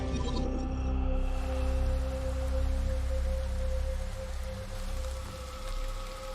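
Heavy monsoon rain pours in a dense, steady hiss and patter on surfaces, loud and continuous throughout, with a faint tonal hum beneath and no voices.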